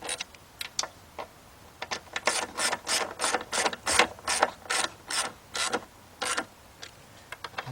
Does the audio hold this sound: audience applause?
no